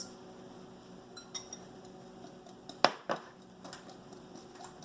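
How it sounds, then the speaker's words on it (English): A utensil clinks and scrapes against a bowl while cinnamon is mixed into wet batter ingredients for green tomato bread, with a few sharp clinks amid quieter tapping in a calm kitchen. "I'm going to mix those in with my wets."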